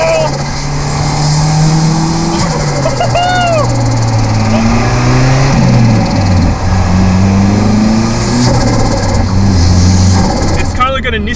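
A turbocharged Toyota Corolla running a Nissan Silvia turbo revs loud and close, its engine note climbing and dropping through repeated pulls with some tire noise, and a voice speaking over it.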